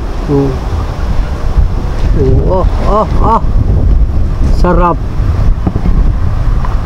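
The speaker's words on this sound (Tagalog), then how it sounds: "lakas ang hangin" Steady wind roars across the microphone in a continuous low rumble, with a few brief voices and tonal calls breaking through in the middle.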